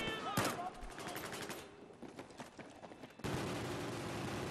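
Gunfire in the video game Battlefield 4, bursts of rapid automatic shots with sharp cracks, followed by a denser loud stretch of firing, close and dominant.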